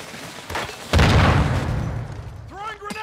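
A grenade blast with gunfire in Call of Duty Modern Warfare 3, a sharp boom that swells into a loud, sustained rumble with scattered shots, while voices call out over it near the end.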